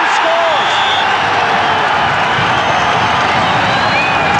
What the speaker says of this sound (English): that's the biggest cheer of the season so far around Middle Park